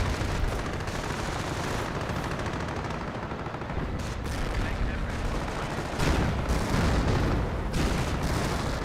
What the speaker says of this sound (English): And there is a barrage there, which will destroy the AT gun.